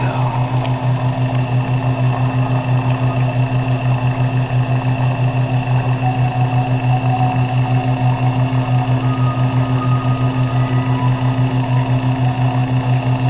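A DC treadmill motor with a belt drive runs under load, powering an HHO gas setup with a steady, loud electrical hum and a fast rhythmic pulsing throb that holds constant throughout.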